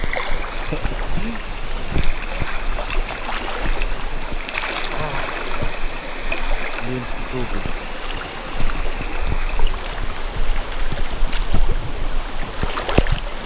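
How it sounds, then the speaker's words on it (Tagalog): A strong river current rushes beneath the Digdig bridge in Carranglan, Nueva Ecija, making a loud, steady, close wash of water that continues throughout. "So ang lakas ng agos eh."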